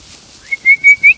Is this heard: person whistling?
yes